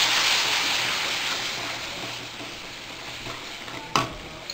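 Masala with ground tomato frying and being stirred in a pan for Indian kadi pakoda, a steady close sizzle that slowly fades, with one sharp scrape or clink near the end; no talking.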